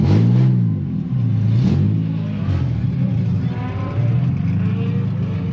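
Car engine revving hard at a drift event, loud and close with rising and falling pitch sweeps as the throttle is blipped repeatedly, the roar continuous throughout.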